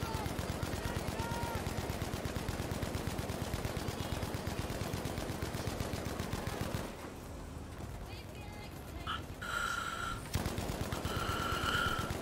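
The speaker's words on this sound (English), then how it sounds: "Someone's shooting." Gunfire from the video game Call of Duty Modern Warfare rattles out in loud, sustained rapid automatic bursts, breaks off briefly, then resumes, with voices speaking during the pause.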